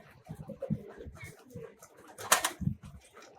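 A pigeon coos softly inside a loft, several low rolling coos at close range, with a brief rustle or wing flutter in the middle.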